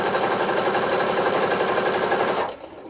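Sewing machine stitching the flap of a quilted book cover: a steady, close mechanical whir with rapid needle rhythm running continuously, then slowing and stopping near the end.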